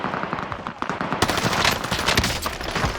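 Rapid automatic gunfire in Call of Duty Warzone Resurgence, dense overlapping bursts that grow louder and more continuous after the first second, with scattered sharper shots layered through the volley and no talk.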